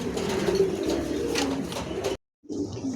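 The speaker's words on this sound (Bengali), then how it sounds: "আজ কিছু ভালো মানের কবুতর আছে" Pigeons in a pigeon shop coo softly amid a busy background hum, with a brief drop to silence before the murmur resumes.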